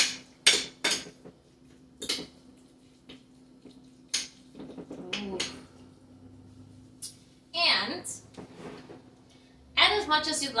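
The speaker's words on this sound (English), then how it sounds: "go ahead and give that a good stir again" A spoon stirs mango salsa in a bowl, making sharp clinks and scrapes in irregular bursts, with a person talking between them.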